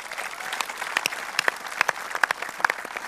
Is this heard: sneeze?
no